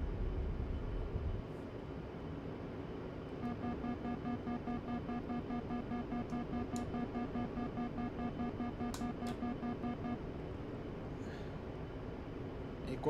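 Steady roar of an A-10C II jet's engines during takeoff and climb in DCS World, a continuous broadband rumble with faint whining tones layered over it, constant and fairly loud throughout.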